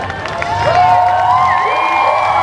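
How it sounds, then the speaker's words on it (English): A stadium crowd at a Renegade Monster Truck Tour show at Penn Speedway in Susquehanna, Pennsylvania, roars with sustained cheering, whoops and whistles that swell after the first half-second and stay loud throughout. "Big cheer from the crowd"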